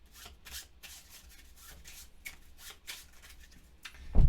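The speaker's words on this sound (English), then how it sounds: "And then we're going to shuffle the rest." Board game cards being shuffled by hand, a steady run of soft riffling and rubbing bursts close to the microphone, ending with a louder low thump.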